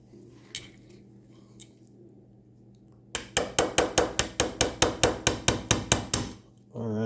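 Sharp metallic hammer blows ring out as a part is driven into an HK416-pattern rifle lower receiver, about fourteen quick, evenly spaced strikes after a few seconds of quiet handling.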